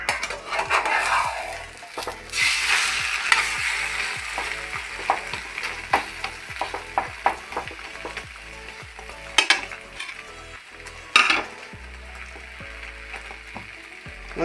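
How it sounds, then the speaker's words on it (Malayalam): Eggs frying in a pan for a spicy-sweet egg roast, a steady close sizzle broken by repeated spatula scrapes and clinks against the pan, with a few louder knocks near the end. "അപ്പോൾ ഞാൻ പാനിൽ മുട്ട വീഴ്ത്തിയിട്ടുണ്ട്. അപ്പോൾ അത് പൊരിക്കാനായിട്ട് വെച്ചിട്ടുണ്ട്."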